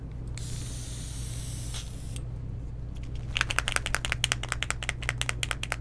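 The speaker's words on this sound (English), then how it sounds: "So now I'll just grab the airbrush. All right, a little bit of black." An airbrush sprays black paint in a steady close hiss lasting about two seconds, then stops. Quick light tapping clicks like keyboard typing follow, with a low background hum underneath.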